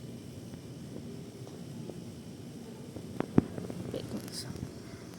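A cat purrs softly in a low, continuous rumble close by, with a few faint clicks and rustles.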